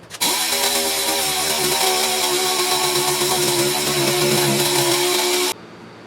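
A DA sander runs on primer over fiberglass gel coat on a Firebird, a steady, loud whirring hum close by that starts abruptly and cuts off after about five seconds.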